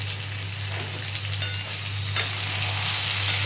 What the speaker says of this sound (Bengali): একটু মটন কষানো হচ্ছে।